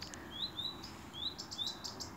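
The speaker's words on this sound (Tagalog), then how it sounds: "only you can hear the tweet tweet tweet of the bird here" Small birds chirp and tweet outdoors in a field on a cold day, a series of short high calls repeating over steady faint background noise.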